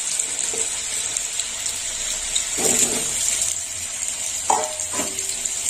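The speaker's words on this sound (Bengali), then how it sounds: "তেল গরম হয়ে গেছে, এবার আলুটা ভেজে নেব।" Potatoes sizzle steadily in hot oil, a constant bright frying hiss with occasional stirring clatters and a few soft knocks from the pan, fairly close and without talk.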